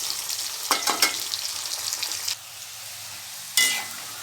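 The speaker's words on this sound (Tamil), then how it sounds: "இது அப்படியே ஓரளவு ப்ரௌன் பொன்னிறமாக வர வரணும் பொறிச்சு எடுத்துக்கலாம்" Raw banana chops fry in hot oil with a steady sizzle, stirred with a couple of scraping clinks, then the frying briefly quiets before flaring up again.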